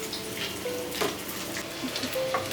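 Fish fingers shallow frying in a little oil give off a steady crackling sizzle with scattered pops and spits, close and moderately loud, with no talk.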